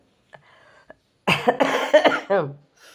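A person coughs in several harsh, loud bursts close to the microphone, after a soft murmur and a couple of faint clicks.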